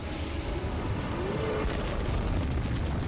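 Deep rumbling explosion effect for a star bursting in a series of huge nuclear explosions, a sustained low roar with rolling booms and a faint tonal sweep midway, no talk.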